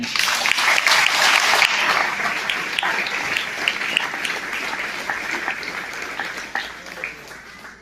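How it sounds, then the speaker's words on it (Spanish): A church congregation applauding at a service, a dense burst of loud clapping that gradually thins and fades over several seconds. "Den un aplauso al Señor."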